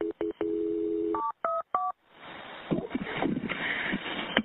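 Touch-tone telephone keypad beeps during an emergency call being transferred to the fire department: a quick run of distinct DTMF tones, then a rushing line noise with faint indistinct chatter.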